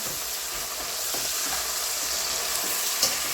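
Onion sizzles steadily in a hot pan while lamb is being cooked, a continuous bright frying hiss with faint stirring scrapes and no talking.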